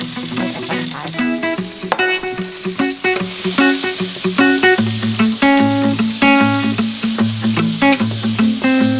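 Cucumbers sizzle and crackle in sesame oil in a hot pan, with loud, continuous frying and stirring noises close up and no talking.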